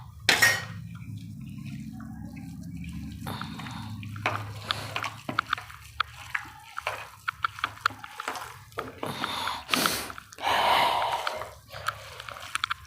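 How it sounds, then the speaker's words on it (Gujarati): Green garlic being mashed and mixed by hand with potatoes for a raw winter relish, giving wet squelching and squishing bursts in irregular spurts, close and moderately loud, with no talking. "આને હવે એના હાથથી પહેલાં મસરી લઈશું ને એક સરખું મિક્સ કરી લઈશું"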